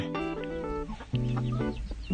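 Backyard egg-laying hens cluck close by in a rural Thai setting along the Mekong River, producing a short burst of nasal, pulsing clucks and one drawn-out call, with no talk.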